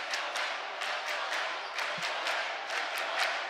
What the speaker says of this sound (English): There's the crowd. It's into this game.